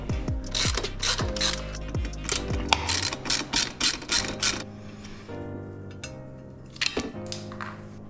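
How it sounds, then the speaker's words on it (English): Handlebars coming off a KTM 1290 Super Adventure motorcycle during a strip-down in a workshop: close rapid ratchet wrench clicks in bursts, metallic clanks and tool rattles, with pauses between and a final flurry of clicking. "I'm gonna finish taking off the bars now."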